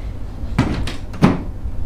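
A hotel bathroom door at the Sheraton Dubai Creek is pushed shut, giving two close, sharp knocks about half a second apart over quiet room tone.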